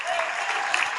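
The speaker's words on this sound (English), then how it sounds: "Another round of applause for Chief Sparrow." Applause from a rally audience at a BC NDP event in a Surrey banquet hall, for Chief Sparrow: a short, dense, steady wash of clapping from many hands, loud and continuous with no voices on top.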